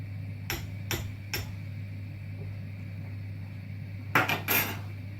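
A spoon stirring about four litres of bouillon in a cooking pot clinks sharply against the metal three times, pauses, then gives a quick cluster of clinks over a steady low kitchen hum.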